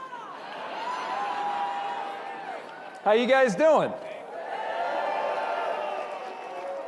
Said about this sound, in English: Man, that is a big crowd